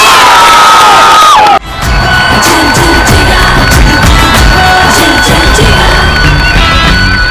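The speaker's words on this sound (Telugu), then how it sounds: "come on girls clap" A studio audience at a Telugu TV game show cheers, whoops and shouts loudly and continuously, with a brief abrupt break early on before the dense crowd roar resumes.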